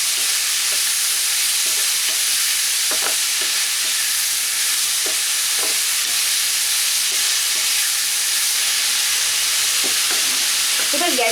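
Snake gourd and salt are stirred in a frying pan over a loud, constant hissing sizzle, with scattered scraping strokes of a spatula close by.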